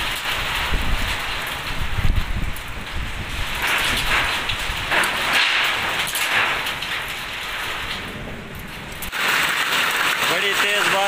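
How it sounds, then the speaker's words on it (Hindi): Heavy rain pours steadily in Najaf, Iraq, a dense continuous hiss with gusting wind, close and loud throughout; a voice speaks briefly over the downpour. "बारिश लै पई है।"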